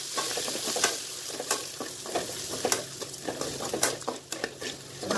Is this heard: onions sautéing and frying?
yes